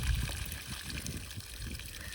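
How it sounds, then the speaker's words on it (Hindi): Water trickles and gurgles out of a waterlogged plant pot with no drainage, a soft, continuous dribbling close by with small splashes, no one speaking. "आधी बाल्टी तो पानी निकल आया इसके अंदर से।"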